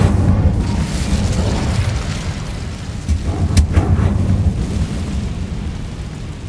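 An Incendio fire spell blast in Hogwarts Legacy, a deep rumbling boom with a rolling, roaring low-end surge that swells and sustains loudly, with a brief crackling flare in the middle.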